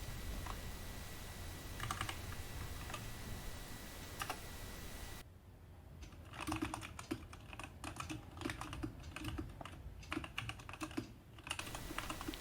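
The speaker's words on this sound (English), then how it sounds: "And here is a sound test after the modifications." Cosmic Byte Black Eye mechanical keyboard after a tape mod, typed on in quick uneven bursts of close, crisp key clacks with occasional heavier strikes, steady and alone without voices.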